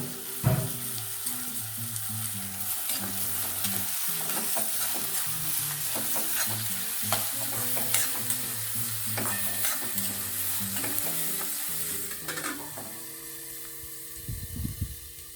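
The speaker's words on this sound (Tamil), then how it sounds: "மூடி போட்டு நல்லா வதக்கி விட்டுக்கலாம்." Onions sizzle and fry in a pan with turmeric powder while a utensil scrapes and stirs them in steady repeated strokes, close and clear, as the base for a crab masala.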